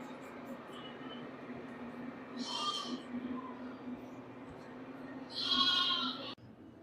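Young lambs on a sheep farm bleat in two clear bursts, one mid-way and a louder, nearer one near the end, over a steady low indoor barn hum.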